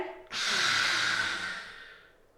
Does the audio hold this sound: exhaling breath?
yes